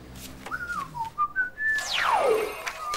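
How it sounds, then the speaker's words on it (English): A person whistles a short run of rising and falling notes, then a long sweeping whistle that slides steeply downward, close and clear. "But you did whistle"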